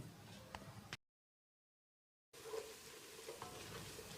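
Ground garlic paste sizzles and crackles in a hot pan while being stirred, a soft, close frying hiss that cuts out briefly to silence before resuming; part of a mutton biryani preparation.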